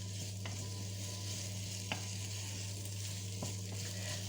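Meat stirred and browned in a pan gives a steady soft sizzle over a low hum, with a few light scrapes of the spoon spaced apart.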